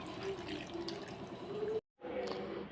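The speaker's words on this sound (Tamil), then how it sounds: "அரை டம்ளர் தண்ணி சேர்த்திக்கலாம்" Half a tumbler of water poured into a mixer jar for melon juice, a steady close liquid splash running almost continuously, briefly cutting out, then resuming.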